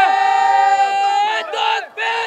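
A crowd at a religious rally answers a takbir call with a loud unified shout, voices sustained together and then breaking into two more short, forceful bursts.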